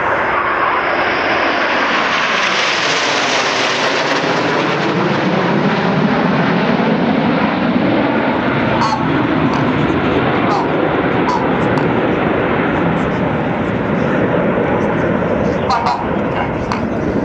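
RAF Red Arrows jets fly an aerobatic formation display, their engines producing a loud, continuous roar that swells and sweeps overhead throughout, with a voice commentating underneath.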